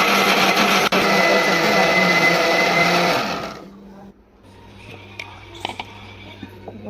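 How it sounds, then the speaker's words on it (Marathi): A kitchen mixer grinder blends chutney of onion, garlic, ginger, green chilli, curry leaves and mint for medu vada, a loud steady whirring that winds down and stops, followed by faint clinks and quiet kitchen handling. "मस्त अशी चटणी वाटून घेतलेली आहे."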